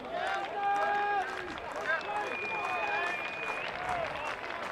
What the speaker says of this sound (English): Crowd again making the noise.